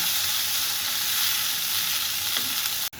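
Onion frying in oil with dried red chillies and chopped garlic in a Bangladeshi home kitchen, a steady close sizzle running for about three seconds before a brief break near the end.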